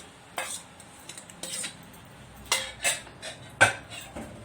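Marinated vegetables, with leftover chicken marinade, are tossed in a pan on a gas stove, giving irregular metallic clatters and scraping stirs up close, bursts of rattling with short pauses between and no voices.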